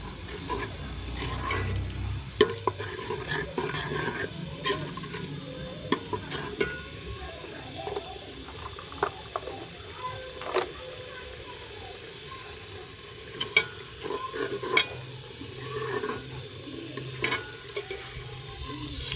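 Arbi and baingan fry with spices in a pan, a low continuous sizzle broken by frequent irregular clicks and scrapes of a spoon on the pan, heard up close for a long stretch.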